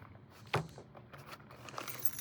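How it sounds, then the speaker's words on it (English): A spare set of keys jangles in short, close metallic bursts, with one sharp shake followed by lighter rattles, as they are handled from a fanny pack. No one speaks. "a spare set of keys, so I always keep a backup on me"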